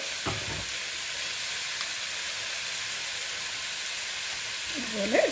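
Jackfruit thoran with crushed coconut stirred in a frying pan gives a steady, even sizzle and hiss throughout, with a brief voice near the end.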